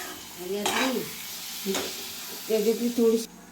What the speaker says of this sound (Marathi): आता कालवा टाकायचे आणि मस्त असा परत त्याला परतवायचं आहे